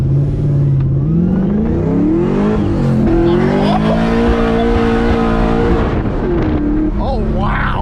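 A forged-engine ute accelerates hard with its tires spinning, the loud engine note rising steadily through the gears. Squealing rubber runs under it, and people talk over the noise.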